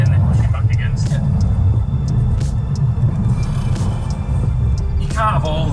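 A Tesla Model 3 electric car drives with a steady low road rumble and hum throughout, a faint whine rising near the end, and people talking over it inside the cabin.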